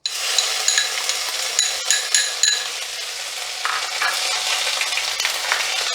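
Ginger paste sizzles in hot oil in a pan while a utensil scrapes and clinks against the metal in repeated stirring strokes, close and steady with no talk.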